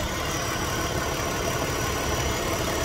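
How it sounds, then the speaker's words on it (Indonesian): A BMW X5 engine idles with a small vacuum leak, giving a steady, continuous mechanical hum with a faint hiss on top, close and unbroken throughout. "Bunyinya ada sedikit bunyi vakum yang bocor."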